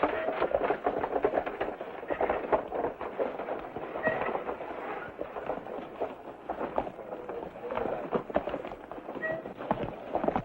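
Several horses riding off in an old Western TV adventure, rapid clip-clopping hoofbeats at a gallop, fairly loud and continuous without speech.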